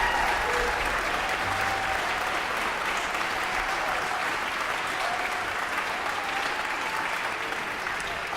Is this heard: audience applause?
yes